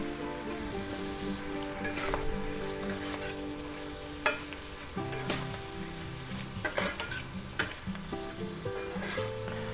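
Parsley flakes stirred into mushrooms frying in a pan for a cheese and mushroom omelette: a steady sizzle runs throughout, with occasional scraping knocks from stirring.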